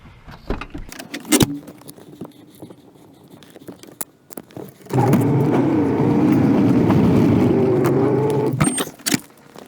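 A vehicle driving around a vineyard: scattered knocks and rattles first, then a steady, close engine and road rumble that holds for several seconds before breaking into clatter again.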